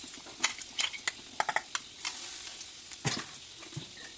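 Ground coconut masala with curry leaves fries softly in oil while a spoon scrapes and taps against the pan in short, uneven bursts over a quiet sizzle.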